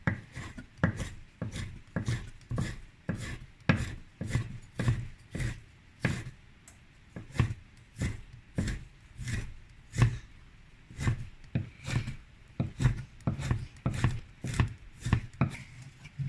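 Ginger being sliced with a knife on a cutting board, a steady series of crisp chopping taps in quick, even rhythm, close and fairly loud, with no talking.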